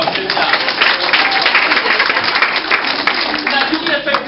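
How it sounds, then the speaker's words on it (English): An audience applauds together in a hall after a motivational talk, a dense, steady wash of clapping that stays loud and even throughout, with no one speaking over it. "Give yourselves a round of applause."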